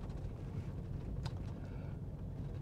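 Strong wind gusting outdoors on frozen Lake Erie, a steady low rumble buffeting the microphone throughout, with no voices.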